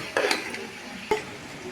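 A few scraping stirs in a pot of pulao rice with bay leaves and fried onions, two brief bursts of clatter with quieter shuffling between, close by.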